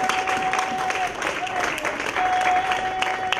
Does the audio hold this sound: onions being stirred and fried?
no